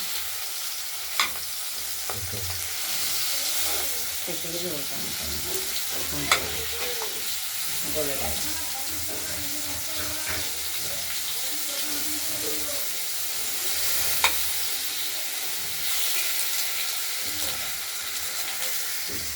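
Rohu fish curry sizzling steadily in hot oil as tomato goes in and the pan is stirred, a continuous loud hiss with scraping strokes and a few sharp clinks of the spoon against the pan, no talking.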